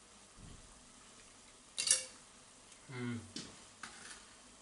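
A pan of braised eggplant with pork neck stirred with a utensil, giving a few scraping clinks and short sizzling bursts over quiet background, irregular and close.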